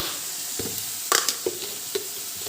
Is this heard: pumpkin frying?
yes